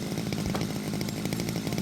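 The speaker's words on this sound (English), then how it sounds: "let's go ahead and get our chainsaw out" A chainsaw running steadily while felling a tree in the mountains, a loud continuous buzzing engine drone that stays at full throttle with no pauses.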